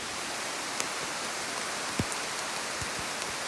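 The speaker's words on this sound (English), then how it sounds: "then the rain came in and there's thunder and lightning" Steady rain hisses during a storm in the Appalachian Mountains, an even wash of noise broken by a few soft knocks and drips.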